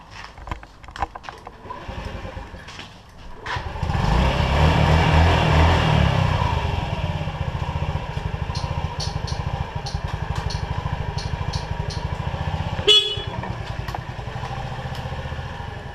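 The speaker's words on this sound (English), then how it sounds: "we'll go ahead and test out the starter and all the signals and everything" Honda Ruckus scooter: a few clicks and a starter crank, then the small engine catches and runs with a steady low idle and mechanical clatter, close up, with a brief sharp blip near the end.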